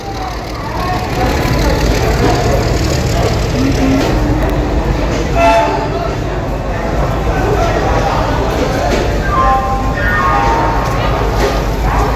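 The Howrah–Kalka train rumbles steadily into a station, a continuous heavy roar with faint squeals, while people talk nearby throughout.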